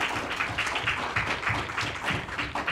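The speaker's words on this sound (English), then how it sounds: "giving her one heck of a round of applause" A graduation audience claps for a departing student, giving steady, dense applause that fills the room, with no voices standing out.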